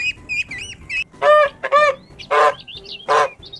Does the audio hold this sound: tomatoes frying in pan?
no